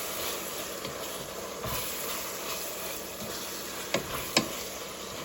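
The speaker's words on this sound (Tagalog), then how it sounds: "Lutuin lang natin yung ground beef tapos lagyan natin ng onion." Ground beef frying in a pan gives a steady, moderate sizzle and hiss, with a few brief scraping clicks of stirring near the end and no voices.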